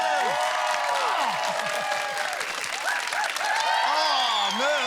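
A studio audience gives sustained, loud applause for the CEO of Laughter Yoga Australia, with steady clapping and scattered cheers and whoops throughout.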